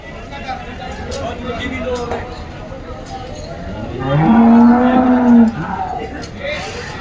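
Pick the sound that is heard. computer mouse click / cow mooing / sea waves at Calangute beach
cow mooing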